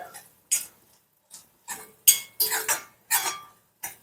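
Grated coconut roasted in a pan with a ladle for temple-style sweet pongal, heard as a string of close scraping and clinking strokes in uneven bursts with short pauses between.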